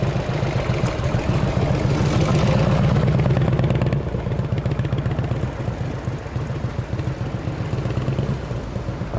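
A heavy 2000 Indian Chief motorcycle engine runs loud and close, a deep throbbing beat that swells briefly, then settles into a steady rumble, with no talk.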